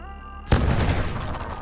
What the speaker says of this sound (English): Still a pretty cool explosion.